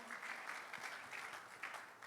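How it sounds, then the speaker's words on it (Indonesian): Congregation applause at an evening Christmas celebration service in Surabaya, a steady, even wash of many hands clapping, sustained and moderately distant, with no talk over it. "Mari beri tepuk tangan yang meriah bagi Tuhan kita"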